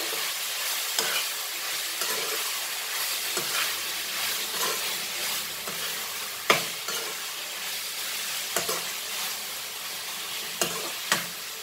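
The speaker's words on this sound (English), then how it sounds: "I will add my mango skins to this and mix this nicely all together." Mango skins sizzling steadily in a hot frying pan while a utensil stirs, scraping and clacking against it every second or two, close by.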